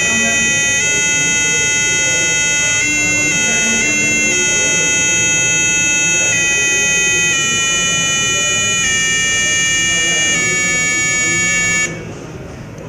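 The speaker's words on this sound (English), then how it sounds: "and when we get closer, the beep sounds" An electronic beeper on an Arduino ultrasonic distance sensor (HSRO4) rigged as a car reversing aid sounds loudly and almost continuously as an object nears, its tone stepping up and down slightly, before cutting off near the end over a noisy background.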